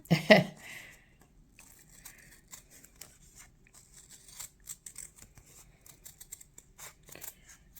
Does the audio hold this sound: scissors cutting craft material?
yes